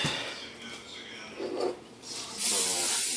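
A short aerosol hiss of cooking spray onto a pan comes near the end, following quieter handling noises and a brief rustle.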